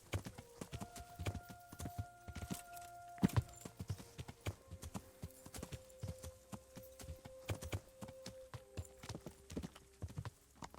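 Steady clip-clop of a horse's hooves in the Kingdom Come: Deliverance video game, a continuous walking rhythm close up, with tonal music-like hums running underneath.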